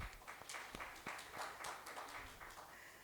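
An audience at an expo launch ceremony claps in a faint, distant ripple of applause, a short spell of scattered hand claps.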